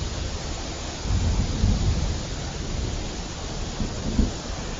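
An animated village scene with a thunderstorm and rain, a dense, steady roar of rain with low rumbling swells that rise and fall, loud and enveloping, with no voices.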